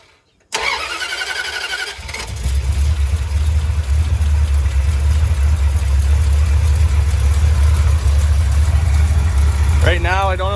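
A 1977 Dodge D200 truck engine fires up after a short crank and settles into a steady, loud, low idle that continues throughout, with a voice briefly audible near the end.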